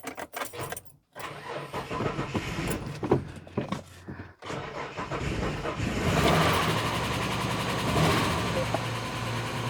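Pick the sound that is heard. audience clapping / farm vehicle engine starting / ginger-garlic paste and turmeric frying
farm vehicle engine starting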